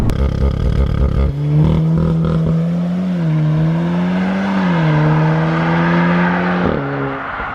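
VW Golf R engine under hard launch-control acceleration: a loud, close, sustained drone whose pitch climbs and wavers, with a brief dip at a quick upshift into second before pulling on.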